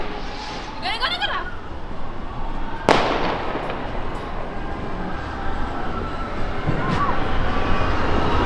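Fireworks bursting over an amusement park on New Year's Eve, with sharp cracking blasts and crackling volleys against a steady background of crowd noise.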